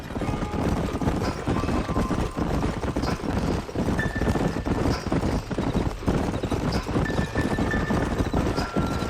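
Horses ridden by a group in the Western video game Red Dead Redemption beat out a continuous, rhythmic clip-clop of hooves on dry ground, close and fairly loud, with a faint whinny and thin wind-like tones in the background.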